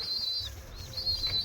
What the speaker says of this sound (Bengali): এগুলো সব উড়ানের পায়রা